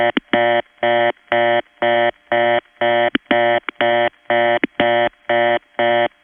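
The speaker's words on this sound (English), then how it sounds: "This is a reorder that's obviously coming from a 4A or a 4M." A telephone reorder tone from a 4A or 4M long-distance switch pulses rapidly in steady on-off bursts, about two per second, with faint clicks at the edges of some tones; no voices.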